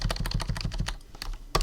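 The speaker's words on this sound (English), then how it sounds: "my typing sounds are probably incredibly loud" Rapid, close typing on a computer keyboard right beside the microphone, a dense run of clacking keystrokes with a short pause before a final sharp tap.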